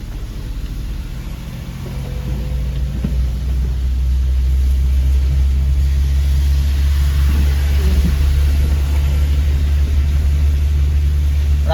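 A car accelerates while driving on a road, heard as a constant deep engine and road rumble from inside the vehicle that grows louder over the first few seconds and then holds steady.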